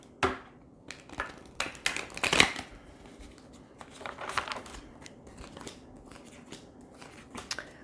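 Cards riffle and slap together in several quick bursts, close and crisp, with short pauses between shuffles and no talking.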